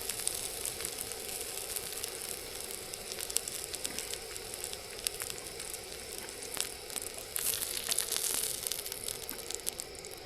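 Onion slices sizzle steadily on a hot griddle at a cold-weather solo campsite, a continuous close crackling hiss with small pops, no talking.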